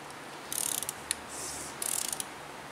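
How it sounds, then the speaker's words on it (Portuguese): Ratchet loosening a spark plug on a Ford Focus Duratec 2.0 engine, two short bursts of quick faint clicks with a single tick between them, close but quiet. "Tamanho da catraca, tá? E olha a força para afrouxar a vela."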